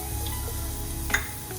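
Crushed garlic, turmeric and asafoetida hitting hot oil, a brief steady sizzle with a sharp spoon clink partway through, close and alone.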